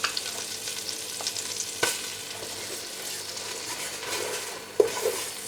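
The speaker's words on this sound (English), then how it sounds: "Now we have to fry the flour." Flour frying in melted butter in a pan, a steady soft sizzle with occasional stirring scrapes and a couple of sharp utensil knocks against the pan.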